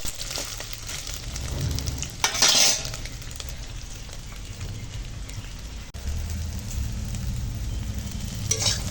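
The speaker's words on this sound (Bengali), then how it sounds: "এখন সোয়াবিনটা ভেজে নেবো সয়াবিনটা ভালো করে ভেজে নেব" Soybean chunks fry in hot oil in a wok with a steady, close sizzle, broken by occasional stirring scrapes and one louder burst of spattering.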